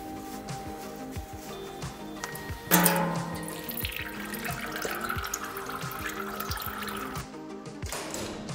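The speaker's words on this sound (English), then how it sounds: "we can now drain the oil. Therefore, remove 2 drain plugs for the first and the second chamber" Transmission oil drains from the drain plugs of a Getrag DCT450 automatic gearbox in a steady liquid stream, with a sudden louder gush partway through before it runs on evenly and then stops.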